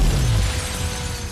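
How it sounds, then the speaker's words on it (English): A car smashing out through a big glass window on a high-rise stunt set: one loud, close burst of breaking glass and impact at the start that decays into a rumbling wash. "goes blowing out this window"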